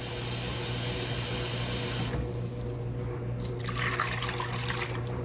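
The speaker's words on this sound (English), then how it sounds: "I'm gonna add 3 cups of water." Three cups of water are poured into rendered tallow, a steady splashing stream under a constant low hum that cuts off briefly and then returns with a brighter gush.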